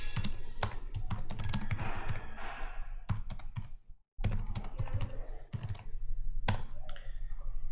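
Fast typing on a computer keyboard while entering text into an Excel cell: close, crisp key clicks in dense bursts, broken by short pauses and a brief silence midway, with no talking.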